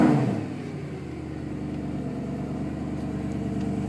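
A Mercedes SLS GT engine, roof down, barks loudly at startup and then settles into a steady, throaty warm-up idle close by, with no voices over it.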